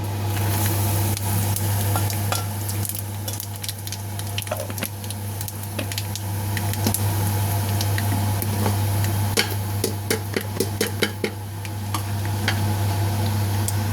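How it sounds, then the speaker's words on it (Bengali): Nigella seeds and a bay leaf sizzling in hot oil in a pan, a steady close crackling fry with scattered pops and a constant low hum underneath, no talking. "এতে আমি এখন কালো জিরা তেজপাতাটা দিয়ে দেবো"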